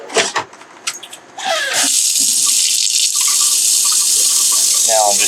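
Hot water gushes steadily from the tap into the sink of a 2021 Pleasure Way OnTour 2.0 AWD camper van, starting after a few brief clatters and running loud and continuous to the end.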